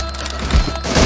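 A sniper rifle shot in a mobile shooter game's team deathmatch: one loud, close, booming crack with a heavy low thud, followed by a second thump a moment later, with no voices.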